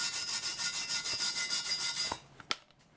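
Wire brush scrubbing metal on a Mercedes 410D exhaust manifold studs, a steady close rasping rub for about two seconds, then stopping, followed by a couple of sharp taps and quiet.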